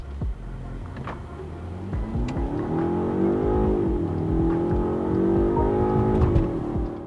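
A 2024 BMW 5 Series in sport mode accelerates from inside the cabin, the engine note rising smoothly in pitch through the gears, moderately loud over road noise with occasional small clicks.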